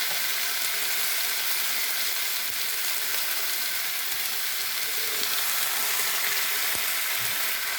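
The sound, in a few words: young jackfruit and potatoes frying and being stirred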